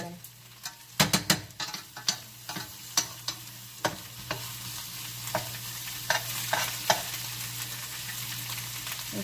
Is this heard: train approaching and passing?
no